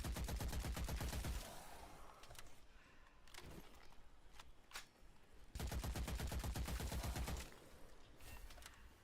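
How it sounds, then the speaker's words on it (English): Enemy gunfire in the shooter game Witchfire: two long bursts of rapid automatic fire, loud and close, with scattered single shots and quieter pauses between them. "There's somebody shooting behind me."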